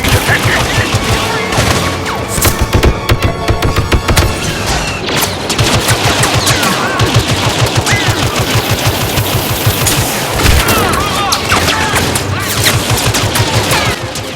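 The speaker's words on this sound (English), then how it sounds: "Explosions going off, getting shot from every direction" Blaster fire and explosions from the Star Wars Battlefront video game, a relentless loud barrage of rapid shots from all around with booming blasts mixed in, and a voice talking over the din.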